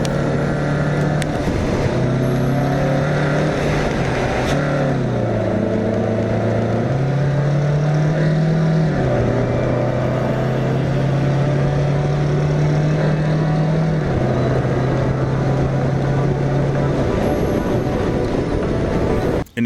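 A Hyundai Sonata four-door, four-cylinder family sedan laps the Englishtown Raceway Park track, its engine droning loud and steady with pitch stepping up and down through gear changes, plus wind and road roar throughout.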